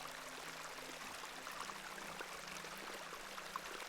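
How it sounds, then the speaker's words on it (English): A babbling beck in the video game Hob's Barrow, a soft, even wash of flowing water that runs steadily throughout, faint and continuous with no voices. "I do enjoy the charm of a babbling beck."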